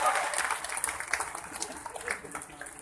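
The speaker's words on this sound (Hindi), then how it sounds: "ये इनविजिबल मैन के लिए जोरदार ताली" Loud applause rises from the audience at a Sahaja Yoga meditation program in Kolkata, a busy crowd clapping with uneven surges and some voices mixed in beneath.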